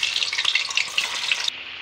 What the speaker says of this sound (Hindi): अब इसमें हम पनीर डाल करके फ्राई करने जा रहे हैं।